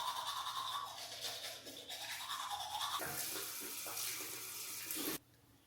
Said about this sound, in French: on prend le dentifrice et la brosse à dents.